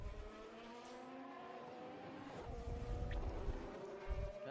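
Formula 1 cars running on track during 2021 Azerbaijan Grand Prix qualifying in Baku, a steady engine drone with several overlapping whining tones, fairly distant and continuous, swelling slightly toward the end.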